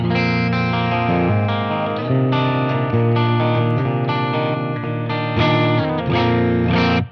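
An electric guitar on a clean amp channel strums a series of full, ringing chords, sustained and rich with a touch of shimmer, played alone without voices; a budget metal guitar.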